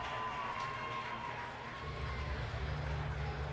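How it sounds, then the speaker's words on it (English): A volleyball crowd at an Arizona Impact versus Ontario Fury match gives a steady, moderately loud cheer that swells slightly toward the end, with voices blended into a continuous roar. "And the crowd rewards them right there."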